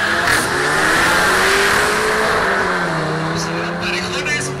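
A Golf GTI APR and a Golf R32 accelerate hard side by side in a drag race, with loud, steady engine roar and rising revs throughout, and a commentator talking over the noise.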